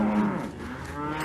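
Cows mooing in the VR video game Resident Evil 4 VR; a single low, drawn-out moo with a wavering tone sounds loud and close over faint game ambience, without speech.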